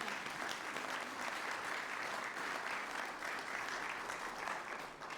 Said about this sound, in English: Let's give him a round of applause for everything he's